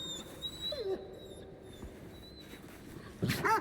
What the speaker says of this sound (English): Such a good dog.